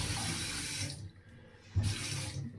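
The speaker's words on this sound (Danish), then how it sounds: "Skal jeg så bare lige have noget varmt vand på kluen" Warm water runs from a tap onto a cloth at a sink, a close rushing stream that cuts off briefly, then gushes on again.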